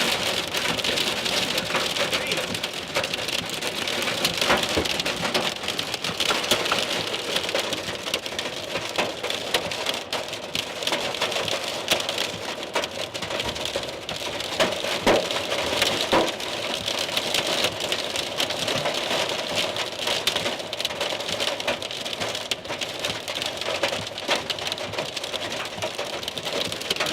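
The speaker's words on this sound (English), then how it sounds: "Look at the storm." Heavy rain and hail pound steadily in a storm, a dense, continuous roar of drops striking surfaces at close range with no talk over it.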